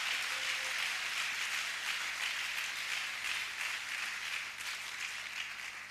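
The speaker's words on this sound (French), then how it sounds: "Let's give a hand clap for them." A church congregation at an evening service applauds the sisters who served the food, a dense, steady wash of clapping that holds at an even level for the whole stretch and eases slightly toward the end, with no voices over it.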